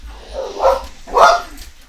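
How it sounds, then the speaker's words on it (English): A female dog lets out two distinct barks about half a second apart, close and fairly loud, with nobody talking over them. "Sorry about the bark. At least I paused after she barked."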